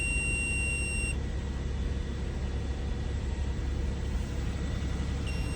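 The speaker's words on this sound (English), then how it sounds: "It will beep at you for a few seconds as soon as you start it." A Nissan Elgrand's warning beep on starting, a steady electronic tone over an idling engine hum, cuts out briefly after a second, then returns near the end.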